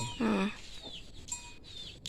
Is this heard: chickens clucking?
yes